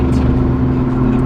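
Twin-turbo Mercedes-AMG towing a jet ski, its engine a loud, deep, steady drone close by for a brief moment, with no talking.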